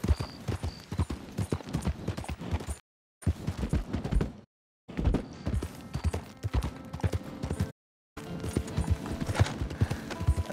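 Horse hooves clip-clopping in Red Dead Redemption 2, a close, steady rhythmic trot broken by three short silent gaps, with no talking.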